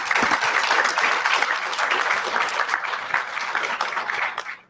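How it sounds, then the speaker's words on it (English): A conference audience at STAREAST 2023 applauds panelists, a dense, even wash of many hands clapping that fades out at the end. "let's give them a round of applause, please."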